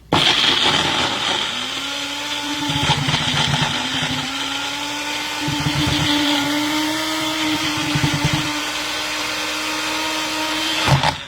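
Electric grinder whirring steadily as it grinds cheese for spaghetti with ketchup, a loud continuous motor drone with rising pitch and pulsing load changes, running for about ten seconds alone.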